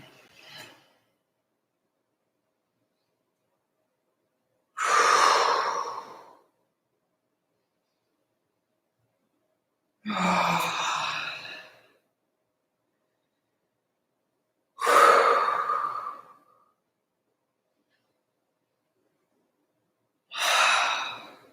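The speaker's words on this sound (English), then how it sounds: "And long, deep breathing." Long, deep breaths during a kriya yoga exercise, four slow breathy exhales spaced about five seconds apart with silence between, close and soft.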